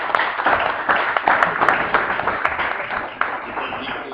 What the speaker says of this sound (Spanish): Le agradecemos que vuelva otra vez con sus aplausos.